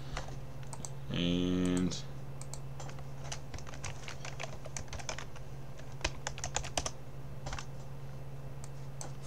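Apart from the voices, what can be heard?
typing on a computer keyboard to sign in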